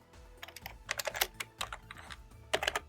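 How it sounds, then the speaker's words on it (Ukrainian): Keys clack on a computer keyboard as a shortcut is pressed, giving a few quick, separate taps in small clusters, close-up and fairly quiet against a faint background hum. "натисніть комбінацію клавіш Ctrl пробіл"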